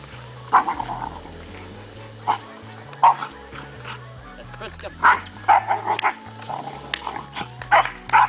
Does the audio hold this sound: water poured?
no